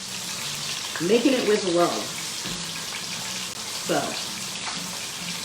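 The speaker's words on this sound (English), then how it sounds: "isn't that sizzle is so nice?" Apple fritters sizzle in hot frying oil, giving a steady, hissing crackle close by while a person talks over it.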